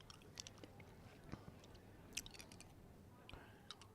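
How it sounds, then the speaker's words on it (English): Someone chews ice close to the microphone, producing faint, scattered crunches and small clicks against a quiet background. "Chewing on some ice."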